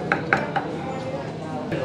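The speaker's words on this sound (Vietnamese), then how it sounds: "Anh đang băm tỏi để chế biến món xào cát nhé." A few sharp knife taps on a cutting board while mincing garlic at the start, then quieter kitchen clatter and background murmur.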